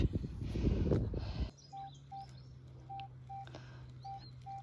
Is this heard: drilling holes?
no